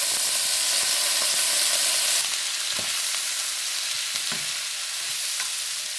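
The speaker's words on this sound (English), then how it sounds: "We cook probably around 4 tablespoons of sherry cooking wine." Shrimp and sugar snap peas sizzle in a pan with sherry cooking wine, a steady loud frying hiss that drops slightly partway through, with occasional stirring clinks.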